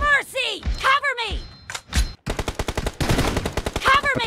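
A PUBG match with voices over gameplay thuds, then a loud, rapid automatic weapon firing in a steady, evenly spaced burst close by.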